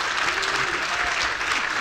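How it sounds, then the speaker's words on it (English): Dense, steady audience applause fills a panel discussion on hospital activity-based funding in Victoria, holding at an even level without a break for the full two seconds. "Round of applause."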